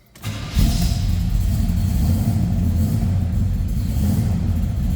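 A 1972 Chevrolet Chevelle 2-door hardtop with an Edelbrock Performer RPM intake and a Holley 4-barrel carb cold-starts: a brief crank, then the engine catches and settles into a loud, steady, rumbling idle close by.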